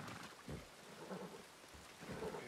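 Rain falls steadily in a Western-themed role-play video game, a soft continuous hiss with a few low rumbling swells, fairly faint and with no one talking.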